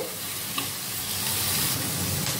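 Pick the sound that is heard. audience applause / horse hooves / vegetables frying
vegetables frying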